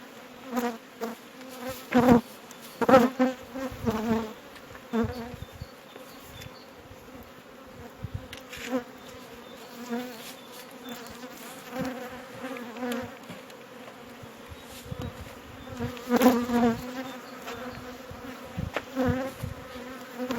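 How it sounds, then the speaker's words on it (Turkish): Honeybees being moved into a new hive, a dense, close buzzing swarm with individual bees droning past in rising and fading bursts over a constant hum. "Arılarımızı yeni yerlerine alıyoruz"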